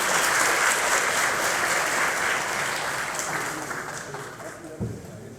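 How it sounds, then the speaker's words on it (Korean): A hall of party members at a Democratic Party of Korea workshop claps to welcome new party leader Lee Jae-myung, loud at first and gradually thinning out, with a voice faintly underneath. "큰 박수로 맞아주시기 바랍니다."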